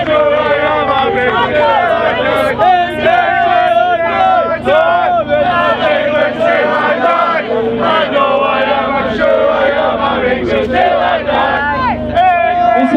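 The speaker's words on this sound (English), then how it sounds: "What a crowd, it's brilliant, man." Crowd at a political campaign rally in Preston, loud and close, with dense shouting, chanting and overlapping voices filling the whole stretch.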